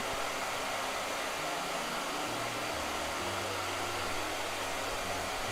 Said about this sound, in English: Okay, now you can blow dry.